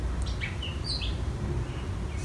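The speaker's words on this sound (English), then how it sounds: "do you hear that beautiful bird?" A bird in a summer garden sings short, bright chirps and whistled notes, scattered and moderately distant over a steady low outdoor background, with no talking.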